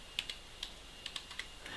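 Computer keyboard keys clicked while entering a code in a video game, a quick irregular series of light taps close by, with no talking.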